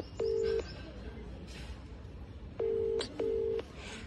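A mobile call to an uncle rings out while stranded in the rain with a broken-down vehicle; a short ringback beep is followed after a pause by two more, over steady rain hiss.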